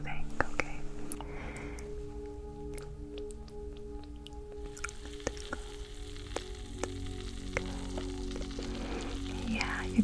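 Soft, steady crackling sizzle from an ear treatment during an ASMR head spa and ear massage, close and intimate, running continuously with faint whispering over it.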